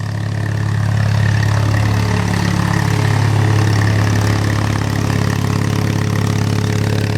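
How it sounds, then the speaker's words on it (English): Generator engine running steadily nearby, a constant low droning hum with no talk over it. "every time you turn that generator off, it backfires"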